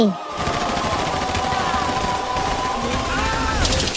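Rapid machine-gun fire in a Hindi animated cartoon, a dense continuous burst of shots running throughout, with a bright whooshing effect near the end.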